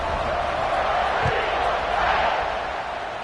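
Stadium crowd in a college football video game, UAB at Auburn, buzzing after a score with a steady, dense roar of cheering and murmur throughout, no talk heard over it.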